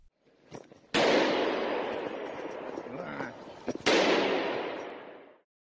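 A police officer fires a gun at a charging wild boar in an underground parking garage, two loud sharp gunshot blasts each followed by a long echoing reverberation that slowly fades, no voices.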